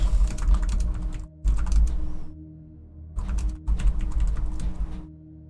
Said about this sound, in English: Oh, I'm not typing in the right box.